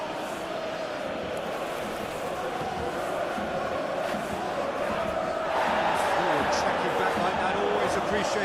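Crowd noise at a simulated Basel versus Aston Villa Europa League football match, a broad roar that swells into louder cheering partway through, with commentators talking over it.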